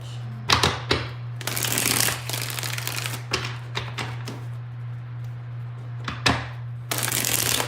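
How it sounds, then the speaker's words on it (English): Tarot cards being shuffled by hand in several separate bursts of riffling and slapping, close and fairly loud, with a steady low hum running underneath and brief pauses between shuffles. "Let's get 5 shuffles."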